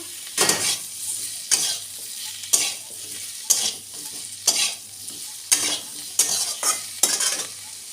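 Chopped tomato and potato frying and being stirred in a pan, a sizzle broken by about ten regular scraping strokes, each lasting under a second.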